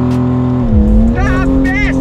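Remapped Porsche 911 running an alcohol fuel mix on a track, engine pitch sweeping through a hard launch with a rising rev and a higher whine, loud and close.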